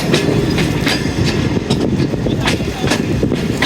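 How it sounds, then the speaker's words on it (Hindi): Loud, close rumble and rhythmic clickety-clack of the Hazara Express rolling along the rails, with wheel and carriage noise as the train slows for its first station stop. "नई नवेली 12 डाउन हज़ारा एक्सप्रेस हवेलियाँ से चलने के बाद अपना पहला स्टॉप कर रही है"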